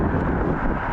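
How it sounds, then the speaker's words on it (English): Gusty wind buffets the microphone outdoors on a cold day in Maine during a walk, a steady low rumble that runs unbroken and fairly loud through the whole short moment. "It's windy today."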